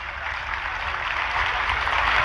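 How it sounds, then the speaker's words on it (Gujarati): A crowd at a Brahmin community ceremony gives a donor family blessings with a dense, continuous round of clapping that holds steady and swells slightly toward the end, with no voices over it. "એકવાર તાળીઓથી ખૂબ એને આશીર્વાદ આપીએ"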